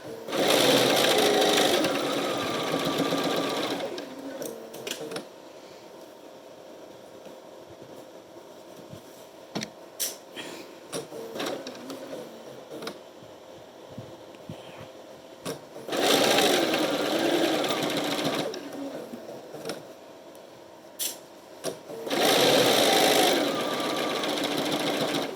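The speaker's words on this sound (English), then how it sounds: "as I sew over each box pleat, I'm holding it closed with my finger" A sewing machine runs top stitching over fabric box pleats in loud bursts of rapid mechanical whirring. Quieter handling noises fill the pauses between runs, with no speech.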